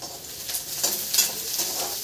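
Crushed garlic and onion fry in a pan for okra bhaji, giving a steady soft sizzle with faint stirring scrapes, moderately quiet and close, with no talking.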